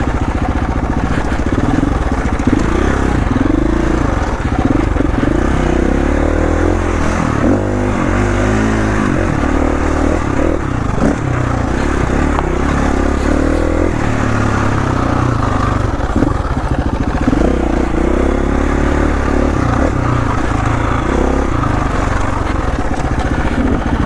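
A Husqvarna FE 350 street-legal dirt bike ridden on a trail with some rocky sections, its engine loud and continuous, revving up and down with a rough, throaty roar throughout.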